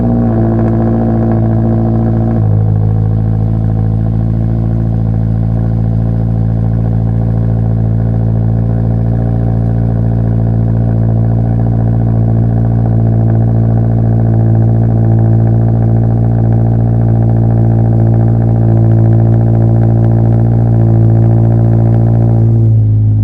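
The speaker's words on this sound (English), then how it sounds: "A little cold start for the boys." A 2022 Subaru BRZ with a REMARK axleback exhaust idles loudly after a cold start, a deep, steady exhaust drone with a small blip near the start, close and continuous with no talking.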